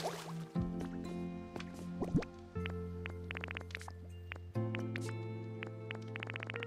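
Watering plants in the Pokopia video game gives soft dripping, splashing liquid sounds in quick clustered bursts over a steady humming game tone, with brief tonal chimes between.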